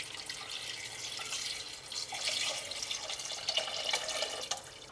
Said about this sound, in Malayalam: ഇനി ഇതിലേക്ക് നമുക്ക് വെള്ളം ചേർക്കാം.